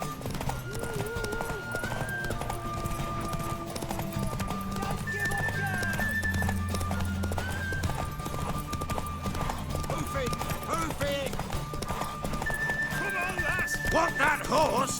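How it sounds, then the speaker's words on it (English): Hooves clop steadily and a horse whinnies amid background music in The Witcher 3, with voices talking over the sounds throughout. "Want that horse, don't ya?"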